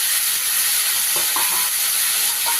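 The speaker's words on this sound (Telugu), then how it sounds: "ఈ టమాటా ముక్కలు మంచిగా ఫ్రై అయిపోయి గుడ్ వచ్చిందాక దీన్ని ఇలాగనే మనం ఫ్రై చేస్తున్నాం" Tomato pieces frying in a pan for an Andhra-style brinjal curry give a loud, continuous close-up sizzle, with a few soft stirring scrapes partway through.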